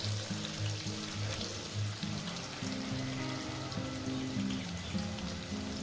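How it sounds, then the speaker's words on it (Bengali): Potatoes frying in hot oil in a pan for an egg curry, a steady close sizzle running the whole time with low tonal background hum and no talking. "আলুগুলো দিয়ে সুন্দর করে লাল করে ভেজে নেবেন"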